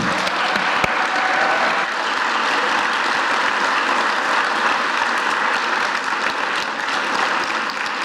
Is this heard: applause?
yes